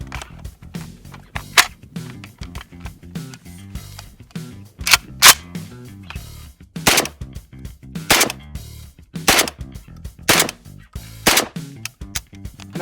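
A shotgun fires 1 1/8 ounce loads of 7.5 birdshot in a rapid series of sharp, loud, close blasts, roughly a dozen shots at irregular spacing with no talking.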